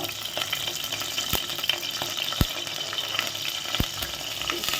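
Curry leaves dropped into hot oil, giving a steady bright crackling sizzle with a few sharp pops and spatters throughout, close and fairly loud with no talking.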